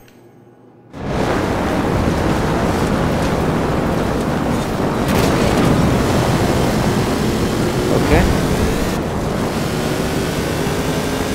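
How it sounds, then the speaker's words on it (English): Heavy water splashing thrown up by a fast off-road truck in the racing game Forza Horizon 4 starts abruptly and continues as a loud, steady rushing wash with engine rumble underneath. "Love all the water splashes, though."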